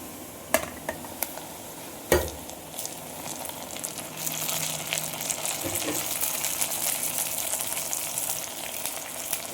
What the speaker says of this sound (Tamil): இதை நல்லா வதக்கிடலாம்.